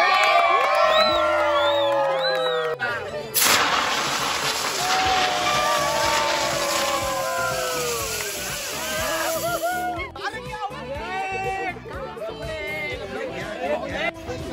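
Crowd noise at a one-million-views celebration gathering, a loud continuous hubbub of chatter, cheering and shouting with whistles, holding steady for the whole stretch.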